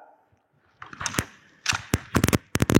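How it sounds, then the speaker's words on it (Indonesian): Airsoft rifle loaded and readied at a shooting drill, a run of sharp mechanical clacks and rattles in irregular bursts after a quiet start, close by with no talking. "Load and make ready, biasa."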